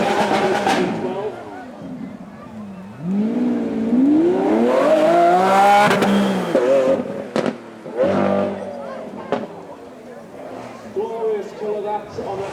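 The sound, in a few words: Lamborghini Aventador SVJ supercar engine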